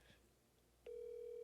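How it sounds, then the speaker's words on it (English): A telephone call rings through a speakerphone, heard as a steady electronic ringback tone that begins abruptly and holds. It is faint and thin against low room noise. "It's ringing. It's ringing. Put on speaker."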